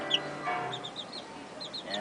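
A mother hen clucks softly near her chicks, which cheep in short high peeps, fairly faint and close, with no speech.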